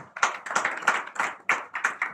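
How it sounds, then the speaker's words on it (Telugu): Bursts of audience hand clapping at a stage drama, in uneven clusters, fairly close and moderately loud, with no voices on top. "చప్పట్లు కొట్టండి"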